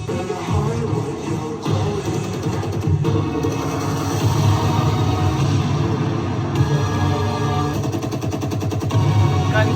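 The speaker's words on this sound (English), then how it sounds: "Gunshots." Rapid bursts of gunfire crackle over a dense, continuous music bed in a song, the shots blending into the loud backdrop throughout.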